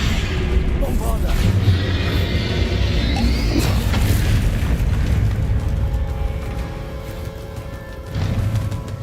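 Bombarda spell blasts in a Hogwarts video game, with deep booming explosions and rumbling debris over layered game effects and music, loud and sustained, and a voice speaking in the clip.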